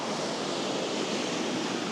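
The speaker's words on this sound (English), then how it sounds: "We've got the door open so we can enjoy the sound of the crashing waves." Waves crash on a shore near a parked camper van on the Spanish coast, heard through an open door as a dense, constant roar of surf without a break.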